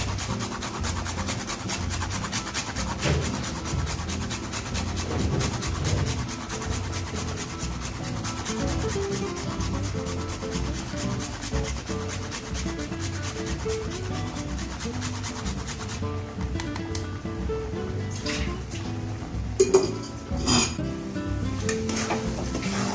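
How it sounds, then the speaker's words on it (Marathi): Nutmeg rubbed against a small grater, a continuous scratchy rasping in quick, even strokes, close and fairly loud for a long stretch, with a few brief knocks near the end. "जायफळ किसून टाकते मी"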